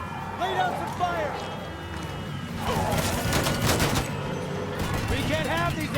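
Gunfire in Mafia III, with bursts of rapid shots and a sustained fusillade in the middle, loud and close while characters talk over it.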